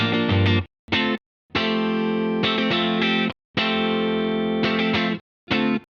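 Distorted electric guitar chords struck in short bursts with gaps between, some ringing out longer, played alone and loud.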